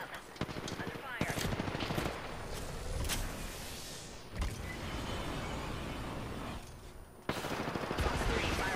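Automatic weapon fire in the Apex Legends battle royale game: repeated bursts of rapid gunshots, loud and close, with short breaks and in-game voice chatter mixed underneath.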